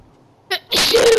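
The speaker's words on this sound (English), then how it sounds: "Way to sneeze right into the microphone." A single sharp sneeze blasts straight into a close microphone, a short intake followed by a loud, broad explosive burst.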